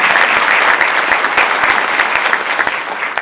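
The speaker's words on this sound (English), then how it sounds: "let's give Patrick one more round of applause" An audience at a community welcome event with the District Attorney and a County Supervisor gives a loud, dense round of applause, many hands clapping steadily and close, lasting about three seconds.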